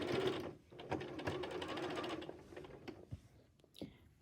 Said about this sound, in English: So we'll start sewing here and we'll sew all the way around that outer edge